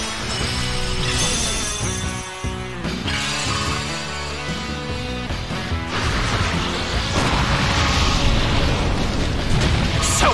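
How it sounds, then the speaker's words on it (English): A Self-Destruct move explodes in the Pokémon Battle Revolution video game, a loud booming blast with crashing impacts and dense rumble that builds toward the end over game music. "Self-destruct detonates."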